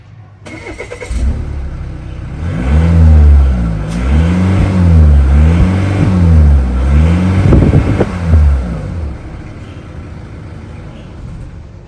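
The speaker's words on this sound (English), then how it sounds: "This engine actually sounds really good without any modifiers on." A Volvo V40 R-Design engine revs repeatedly in a steady rhythm of rising and falling pitch, loud and close, with no talk over it.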